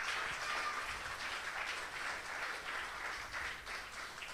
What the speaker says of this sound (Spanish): denle un fuerte aplauso al Rey, a aquellos valientes